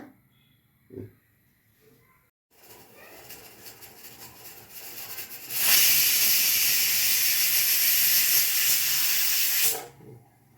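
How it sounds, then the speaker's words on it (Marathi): A pressure cooker cooking semolina hisses steadily, then lets out a long, loud whistle of rushing steam lasting several seconds before cutting off. "आता तीन शिट्या झाल्या की आपण एक पाच सात मिनटं कुकर तसाच ठेवायचा आहे सिमवर"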